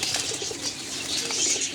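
Paired breeder pigeons in a loft of thirty-five to forty birds coo softly and continuously at close range, with a light rustling background.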